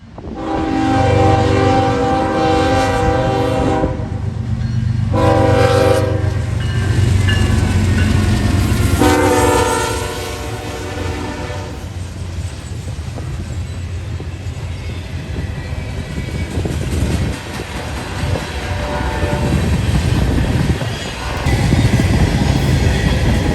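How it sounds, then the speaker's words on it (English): Norfolk Southern freight NS 179, a very long train of empty steel cars led by ES44DC and AC44C6M locomotives, passing close and loud with sustained horn blasts over heavy diesel rumble and rolling wheel noise. "NS 179 heading under the Conrail tri-lights near the former PRR NYC interlocking, with an ES44 DC and an AC44 C6M on the head end"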